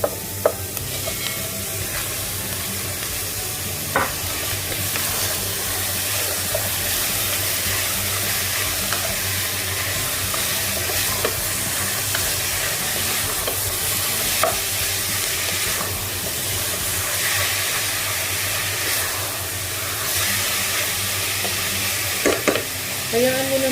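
Meat and translucent onion frying in a pan, giving a continuous loud sizzle with occasional scrapes and clicks as the mixture is stirred.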